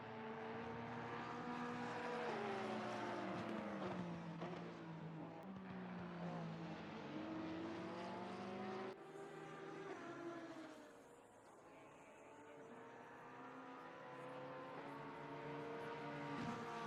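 Engines of the No. 111 Porsche and No. 101 McLaren race cars snarl close together in a sim racing endurance event at the Nürburgring, pitches rising and falling through gear changes and corners, loud and continuous throughout.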